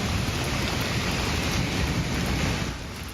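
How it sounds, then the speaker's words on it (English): Hail and rain pour down during a severe storm, a dense, loud, steady roar of drumming and spattering that carries through the whole stretch with no voices. "we have some hail and rain video, so if we can pop that up"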